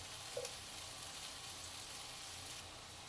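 Eggplant, bitter melon and chili stir-fry in oil in a pan, giving a soft, steady sizzle and hiss. It stays faint and even throughout, with a small clink near the start.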